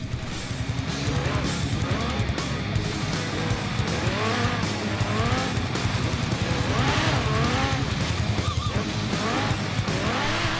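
Cars race through Forza Horizon 3, including a Jaguar and a Land Rover, with a constant engine roar, rising and falling revs and repeated tire squeals and skids throughout.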